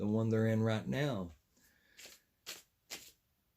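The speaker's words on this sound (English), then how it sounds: "Okay, 4 more shuffles and we got it." Tarot cards being shuffled by hand, a few brisk riffling bursts spaced apart after a person finishes speaking.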